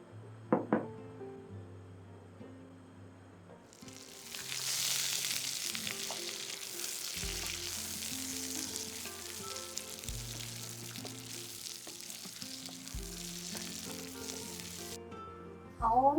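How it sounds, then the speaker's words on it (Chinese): Ginger stir-frying in sesame oil over medium-low heat, a soft steady sizzle that starts a few seconds in and runs continuously, with a faint low tonal hum beneath and a brief clink near the end. "那我们现在用中小火来煸我们的姜"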